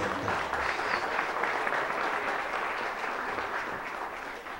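Steady, continuous applause from an audience at a tourism event honoring seated guests, even in loudness throughout, with no talking over it.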